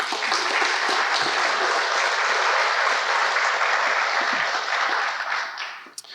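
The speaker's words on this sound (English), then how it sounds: "Applause for our MC throughout the last couple of days, Brandon Smart." Audience applause at a university conference session, a steady, full burst of clapping across a hall that holds for about five seconds before tapering off.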